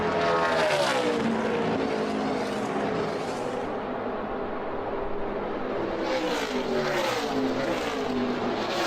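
NASCAR race cars at Texas roar through the final half lap of a race, a loud continuous engine drone with rising and falling pitch as cars accelerate and sweep past, no talk heard.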